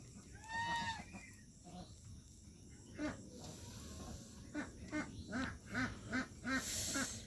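Farm-kept muscovy ducks call with a run of soft, rhythmic quacks that grow more regular toward the end, faint and fairly close against a quiet background.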